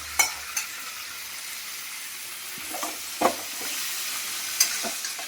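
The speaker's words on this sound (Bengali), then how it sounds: "এবার কী করবো, এর মধ্যে সেদ্ধ করা আলুগুলো এবারে দিয়ে দেবো।" Boiled potatoes are tipped into a cooked spicy masala for aloo dum and stirred in a pan, with a few close clatters and scrapes over a steady sizzle and no voices.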